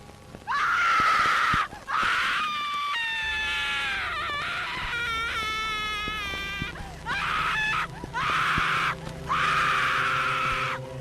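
A harsh, piercing scream from a Mouse Avi horror animation, loud and drawn out in several bursts with shrill wavering tones, alone with no talk.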